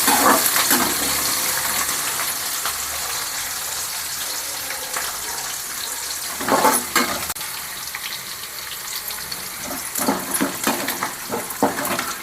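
Chopped garlic, curry leaves and green chillies with cumin fry in hot oil, a steady broadband sizzle close by, with occasional louder stirring scrapes and bursts as the pan is stirred.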